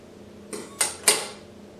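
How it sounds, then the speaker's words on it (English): Kitchen scissors slit a ripe plantain lengthwise in three crisp, close snips, each a short bright cut spaced a fraction of a second apart against a quiet background. "Make a slit lengthwise using a kitchen scissor."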